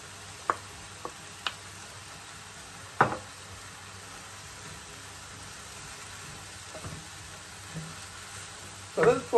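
Ready-cooked prawns and spinach fry in a pan for indomie noodles, giving a soft steady sizzle with a few sharp pops and clatters of stirring now and then.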